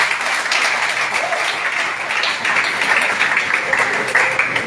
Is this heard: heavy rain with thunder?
no